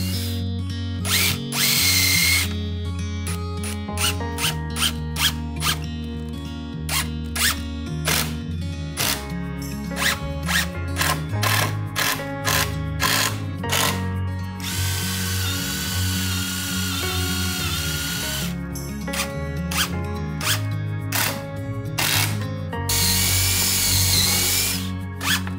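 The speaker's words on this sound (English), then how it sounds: "Next, I'll make a pilot hole to prevent the wood from cracking," A power drill bores a pilot hole, then drives a screw into wood for Japanese-style winder stair treads, heard as a run of short, close, loud whirring bursts with pauses between them, plus a few longer sustained runs.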